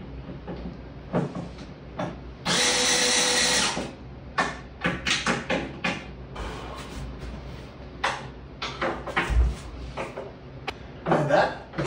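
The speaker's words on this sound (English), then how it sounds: "Man, that drill sucks. This is not even hard to unscrew." A power drill with too little torque struggles to unscrew a fixture during a home renovation, giving one loud whirring burst of about a second, followed by scattered clicks, knocks and handling noises.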